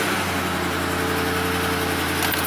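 Ford car engine idling with a steady low hum and faint vibration, continuous and even, close by, with no voices.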